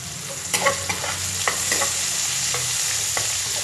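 Onions and garlic sautéing in cooking oil for a Filipino stir-fry, a loud continuous sizzle with repeated scraping stirs at the start, no voices.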